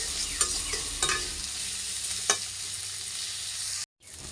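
Potatoes sizzle steadily in hot oil after salt and turmeric go in, with a few sharp clinks of a spoon stirring the pan, and the sizzle cuts off abruptly near the end.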